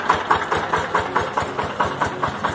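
A VST power tiller engine runs loud and close on a rough dirt road, its steady, rhythmic thumping chug pulsing about four times a second without any voices.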